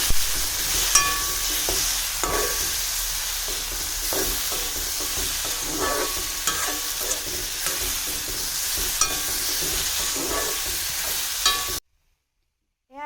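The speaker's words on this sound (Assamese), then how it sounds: "এইখিনি দি লৈ এতিয়া ধুনীয়াকৈ আমি সিজি যোৱালৈকে অকণমান ভাজি থাকিম।" Potatoes fry in a pan with salt and turmeric, a continuous close sizzle broken by repeated scraping stirs, running steadily until it cuts to silence near the end.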